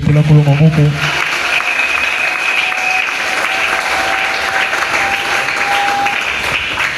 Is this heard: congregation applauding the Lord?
yes